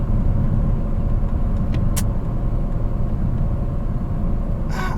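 Peugeot 407 Coupé V6 with a 6-speed manual gearbox, its engine giving a steady low rumble and drone from inside the cabin as the throttle is pressed, continuous and fairly loud with no clear rise in revs.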